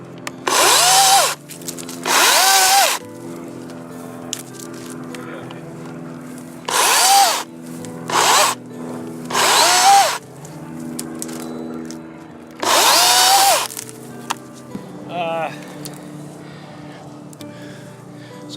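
A Dewalt Flexvolt DCCS670X1 battery chainsaw revs in several loud, separate bursts of a few seconds each, with quiet pauses between them, close by and alone.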